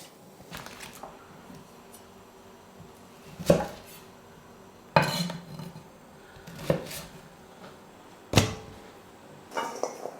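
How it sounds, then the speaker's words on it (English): A knife halves Brussels sprouts on a board, about six sharp chops spaced a second or two apart, close and clear, with no talking. "I've got my sprouts and I'm just going to halve them."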